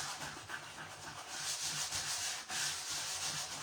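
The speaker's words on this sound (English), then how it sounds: "sanding off that top layer of Petunia Pop so that our hearts will pop out" Sandpaper rubbed by hand over painted wooden hearts, scraping off a top coat of paint in a steady, close, continuous scratchy rasp with quick back-and-forth strokes and a brief pause near the middle.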